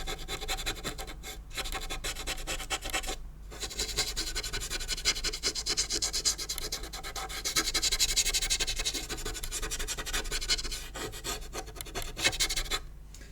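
Pastel is rubbed and scratched across paper while drawing a dog's mouth: close, continuous dry rasping strokes with brief pauses between passes.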